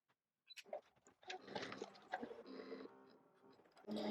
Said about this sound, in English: the machine has only just cut the test cut